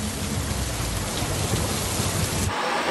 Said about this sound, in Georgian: ვიდეოში ჩანს, რომ მანქანაში ისევე წვიმს,